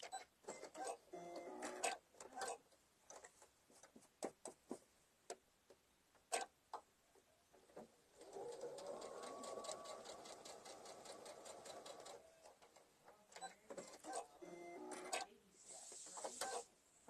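A sewing machine stitches a mini quilt, its needle in need of replacing, in short ticking bursts and a longer steady run, quiet and close, with occasional clicks and a little talk.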